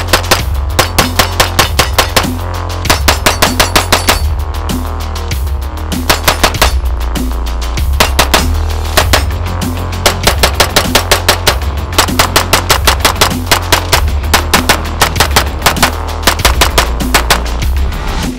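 A Laugo Alien competition pistol fires in rapid strings of shots, loud and close, with short pauses between bursts and no one talking.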